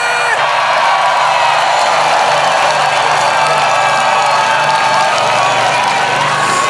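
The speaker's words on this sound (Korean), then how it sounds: "뜨거운 박수 한 번 더 부탁드립니다." Crowd at an outdoor presidential campaign rally in Daejeon cheering, whooping and applauding steadily, a dense, loud wash of shouts and clapping with no break.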